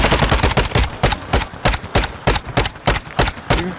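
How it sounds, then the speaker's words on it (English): Two guns in Call of Duty: Modern Warfare 2 ranked multiplayer firing together as one steady volley: about a dozen loud, evenly spaced shots in quick rhythm, close and punchy, with no talk over them. "You can hear our guns at the same time."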